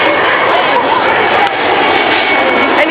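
A loud, steady roar of passenger jets passing overhead near the 163 freeway, filling the whole moment with continuous broadband engine noise, with faint voices beneath it.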